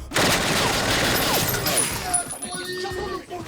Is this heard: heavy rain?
no